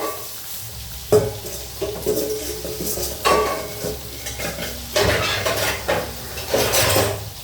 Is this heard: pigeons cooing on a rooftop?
no